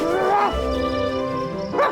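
A cartoon puppy gives a couple of short, high yipping barks with a whimpering, howl-like tone, separated by a pause, over a faint musical background.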